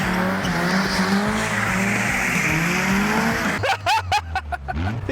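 Car on super thin tires drifting, loud tire squeal and engine note sustained for several seconds, then breaking into choppy bursts of skidding near the end.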